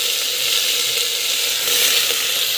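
Washed broad beans hit hot oil with cumin and garlic in a home kitchen pan, giving a loud, continuous, even sizzle and hiss that holds steady throughout with no voices.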